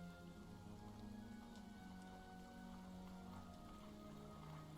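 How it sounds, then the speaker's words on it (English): Rain falls steadily in a constant soft hiss of drops hitting a surface, heard alone with no voices or thunder. "Going outside can wait. It's raining anyways."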